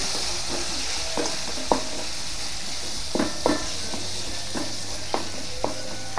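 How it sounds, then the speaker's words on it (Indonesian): Bean sprouts are stir-fried in a pan with fish sauce, giving a continuous close sizzle punctuated by repeated spatula scrapes and taps at an irregular rhythm. "Kita tumis lagi."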